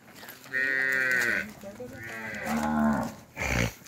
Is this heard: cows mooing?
yes